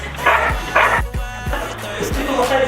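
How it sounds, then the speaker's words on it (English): A dog barks in a short series of about six sharp, fairly loud yips and woofs spaced roughly half a second apart, close by, with background noise and little else. "It's my dog!"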